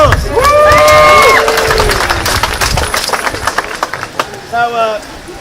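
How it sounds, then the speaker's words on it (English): Audience on a pirate-themed ship auction cheering and clapping for firefighters and EMS, loud shouts and whoops with scattered claps, then tapering into lighter cheers and a final burst of voices. "Give them a round of applause"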